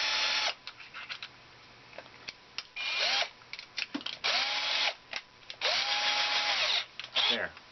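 A 12-volt lithium-ion cordless driver fitted with a 1/4 inch bit whirs in several short bursts, its pitch rising and falling as it spins up and slows, with quiet pauses between runs.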